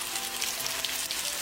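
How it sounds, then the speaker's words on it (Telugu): Ginger garlic paste fries in a pan with a steady close-up sizzle and crackle, bright spitting pops scattered through the hiss and no voices over it. "ఆ తర్వాత అల్లం వెల్లుల్లి పేస్ట్ కూడా ఈ విధంగా బాగా ఫ్రై చేసుకోవాలి."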